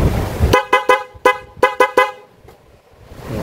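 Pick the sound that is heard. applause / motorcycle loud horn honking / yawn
motorcycle loud horn honking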